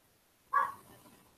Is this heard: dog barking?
yes